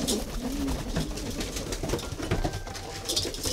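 Pigeon cooing in a busy pigeon and dove rescue setting while a person tries to catch the bird, the soft low coos blending into steady background noise at moderate, fairly faint level.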